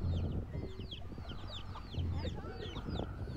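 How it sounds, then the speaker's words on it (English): Chickens cluck and chirp repeatedly in a busy, close cluster, with short rising calls overlapping in a steady rhythm over a low background hum. "And there's some more chickens."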